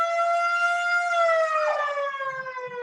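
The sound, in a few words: ambulance siren passing outside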